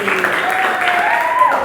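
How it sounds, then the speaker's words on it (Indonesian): A classroom group of students gets applause, a short burst of clapping under and alongside talking voices. "silakan tepuk tangan buat kelompok 1."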